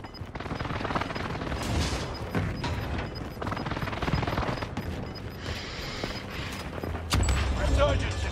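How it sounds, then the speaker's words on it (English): Precision airstrike explosions in the Warzone battle royale video game, a dense barrage of rolling blasts and gunfire-like crackle that grows heavier and louder near the end, with a voice talking over it. "Enemy precision airstrikes!"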